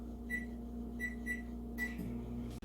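A microwave oven running while heating potatoes gives a steady close-up hum, with a few short high beeps repeating through the run and a faint click at the end.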